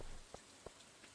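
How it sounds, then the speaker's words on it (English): Rain falls in the Stardew Valley Expanded farming game as a soft, steady hiss, faint and distant, with a couple of light ticks from drops. "All the rain."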